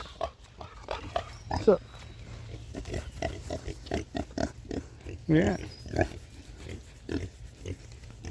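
Pigs on a silvopasture paddock with grass and rotten wood grunt in short, irregular bursts close by, with a few louder snorts, while someone speaks briefly over them.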